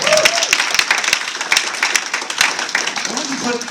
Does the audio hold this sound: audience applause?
yes